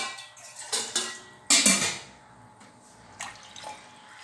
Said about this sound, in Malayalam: ചട്ടിക്കകത്തോട്ട് നമുക്ക് വെള്ളം ഒഴിച്ചു കൊടുക്കാം